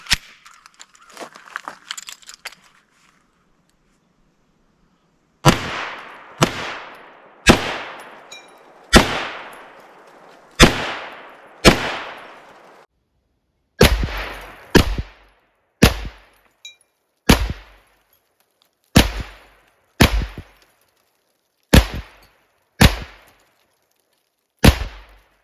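A KelTec SUB2000 Gen 2 carbine fires about fourteen sharp, loud single shots at wine glasses and an old wine bottle outdoors, paced roughly a second or two apart, each with a short decaying echo after some brief handling noise.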